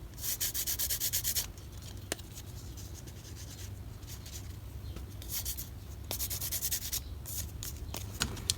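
Paper edges are distressed by hand for an altered paperclip craft. There is a quick burst of close scraping strokes, then quieter steady rubbing with a few small taps, and another run of rasping strokes near the end.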